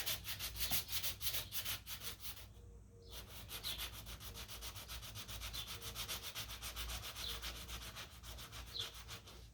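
Hand sanding works rough scratches out of Ford F-150 bodywork before primer and paint, a rapid, regular back-and-forth scraping rhythm that runs steadily and close, with one brief pause partway through.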